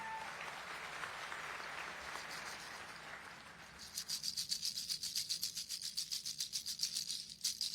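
Audience applause at the Hard Rock Hotel & Casino Tejon groundbreaking ceremony in Kern County, faint at first and then swelling into a quick, crisp patter of many hands for the last few seconds.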